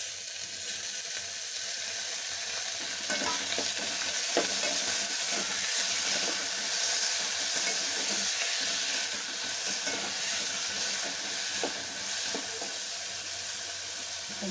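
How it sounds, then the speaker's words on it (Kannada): Tomato fries in a hot pan with a steady, close-up hiss and soft crackle that holds continuously throughout, with no voices. "ಟೊಮೆಟೊ ಹಾಗೆ ಫ್ರೈ ಆಗಲಿ"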